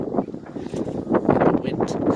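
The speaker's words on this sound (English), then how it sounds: "The wind." Gusty wind buffeting a handheld camera microphone outdoors during a New Year's fireworks outing, a continuous rumbling roar that surges and fades throughout without any clear speech.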